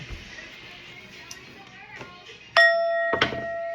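A bell struck once with a bright ringing tone that hangs and rings on, then a second strike follows, after quiet shuffling and faint talk.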